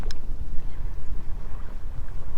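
Strong wind blowing across a fishing boat on a gusty day, a loud, steady, close rumble of buffeting air that surges and dips throughout, with no voices.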